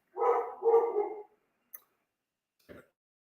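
A pet dog named Chewy barks twice in quick succession, fairly loud and close, followed by a short soft click and a brief fainter yelp a moment later, with no one talking.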